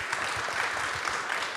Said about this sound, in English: Everybody give them a round of applause, please.